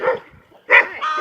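A farm dog's sharp barks come in two short bursts, close and loud, outdoors near a flock of chickens, with a brief gap between them.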